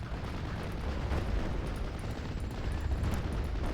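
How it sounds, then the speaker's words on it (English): Mortar fire in the WWII strategy game Steel Division: Normandy 44 rolls out as a loud, continuous rumbling barrage of overlapping blasts with no pause, dense and booming. "No worries, mortars are firing"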